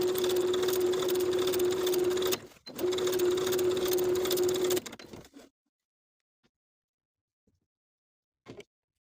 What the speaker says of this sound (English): Now we can sew each of the darts from the outside edge to the point